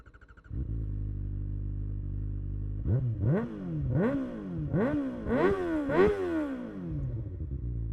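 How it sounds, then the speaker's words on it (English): A motorcycle fitted with a full exhaust system idles with a deep, steady burble, then is revved six times in quick succession, each blip climbing sharply and dropping back, close and loud. "So first, the sound check. So this has a full exhaust system"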